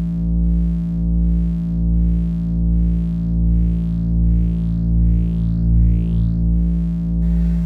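A Serge frequency shifter in a feedback loop through a mixer, with down shift applied, gives a steady electronic drone under repeating swooping chirps that pulse in an even rhythm, loud and alone.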